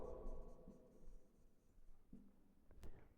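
Faint scratching of writing on a board or paper during a maths lesson, soft and intermittent against low room noise, with a quiet voice briefly present.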